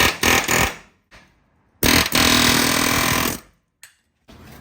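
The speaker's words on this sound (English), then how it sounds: "We are just going to cook it off with an air hammer right in between." Pneumatic air hammer rattling on the bump stop nut of a Nissan D21 Hardbody pickup, heard as two loud, close bursts of rapid hammering separated by brief pauses, with a short final burst.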